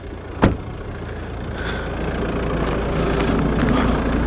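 A used Volvo V40 runs with its bonnet open, giving a steady low engine hum throughout, with a sharp click or thump early on like a catch or door.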